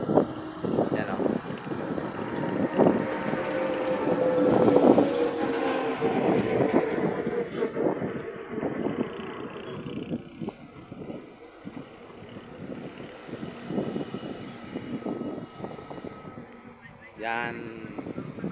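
A Cebu Pacific airplane taking off in the Philippines, a distant rumbling engine roar mixed with wind noise on the microphone while a person talks throughout.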